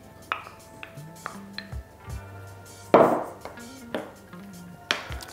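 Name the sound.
stirring feta pieces into courgette mousse mixture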